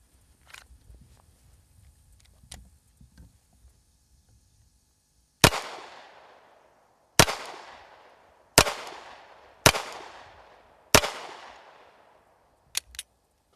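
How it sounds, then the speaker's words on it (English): Seven sharp 9mm hardball gunshots strike a Patriot armor plate outdoors, loud and close, spaced one to two seconds apart with short decaying echoes, the last two in quick succession after quiet handling noises. "we're going to use 9mm hardball ammo, and we're going to test it against this and see how it does."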